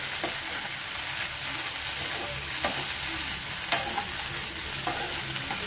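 Grated coconut frying with doddapatre leaves in a pan, a dense steady sizzle with soft stirring scrapes and a few light taps, close and alone without speech.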